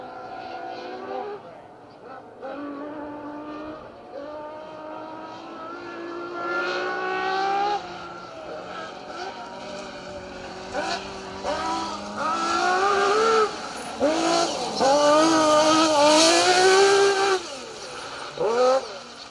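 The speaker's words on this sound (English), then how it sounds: "The awesome Ferrari-engined Lancia Stratos, car number 15 of Seb Perez and Gary McElhenney." A Ferrari-engined Lancia Stratos rally car on a stage of the Roger Albert Clark Rally, its engine rising and falling through gear changes as it approaches and passes loud and close, with people talking over it.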